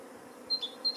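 A swarm of honey bees gathering outdoors, heard as a soft, steady drone with a few brief, higher insect buzzes passing close by; no voices.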